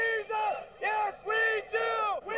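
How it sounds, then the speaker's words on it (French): Thousands of men in a packed stadium cheer together in rhythmic, chant-like bursts, a loud unified roar of voices swelling and pausing in regular waves. "des hommes venus acclamer leur idole"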